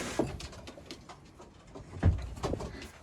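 Pigeons in a breeding loft giving soft, low cooing calls close by, a few muffled coos rising over light rustling and shuffling from the birds.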